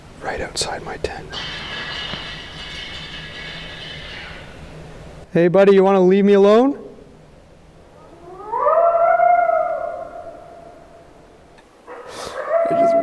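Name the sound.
coyote outside a tent at night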